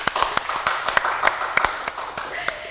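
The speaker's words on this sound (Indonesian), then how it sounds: "boleh tepuk tangan dulu teman-teman." A small studio audience at a podcast taping claps their hands, a loose, uneven patter of distinct sharp claps close to the microphone, fairly lively and continuous.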